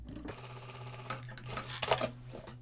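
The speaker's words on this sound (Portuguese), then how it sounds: "Vou costurar 6 centímetros." A sewing machine runs a straight seam on denim for a jeans dress, a steady rapid mechanical whir close by that slows and stutters with a few clicks near the end.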